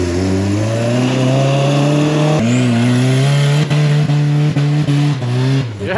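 An off-road vehicle engine revving hard while stuck in deep snow, loud and close, with rising and falling pitch and several sharp surges toward the end.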